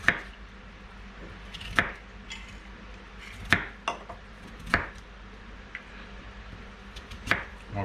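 A knife chopping onion on a board in sharp, separate chops spaced roughly a second apart, crisp and close, with quiet room noise between strokes and no talking.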